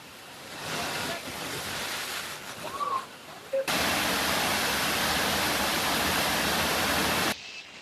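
A private waterfall reached on an off-road trip gives a constant broad roar with a gusty, windy edge. It grows much louder and fuller partway through, then drops back.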